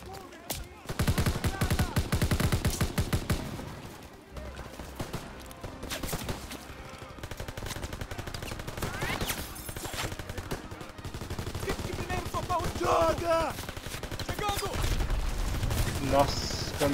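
Gunfire in Call of Duty: WWII, rapid bursts of shots and machine-gun rattle cutting in and out over game sounds and background music.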